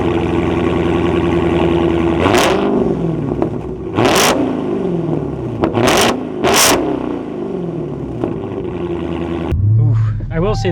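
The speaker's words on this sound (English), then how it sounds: "I will say the exhaust in this thing is pretty crazy." A Dodge Challenger Hellcat's engine revs hard several times through its exhaust, loud bursts rising and falling over a steady idle rumble, then settles into a low throaty burble.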